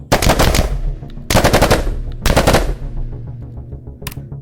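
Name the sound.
full-auto laser rifle firing in VR video game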